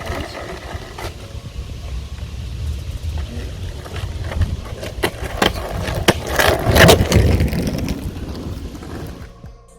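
A Carver surfskate rolls steadily on pavement, its wheels giving a continuous low rumble with scraping swells as it carves, louder around the middle, with wind buffeting the microphone and no talking.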